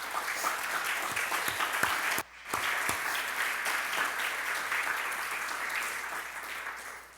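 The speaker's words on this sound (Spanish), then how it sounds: "Dele un aplauso de alabanza al Señor." A church congregation claps in sustained applause of praise, loud and dense throughout with a brief dip near the middle before resuming.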